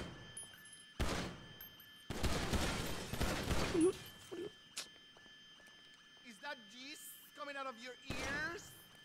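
Gunfire in GTA V, with a few loud, sharp bursts of shots separated by quieter stretches, plus thuds and scattered game effects under occasional talk.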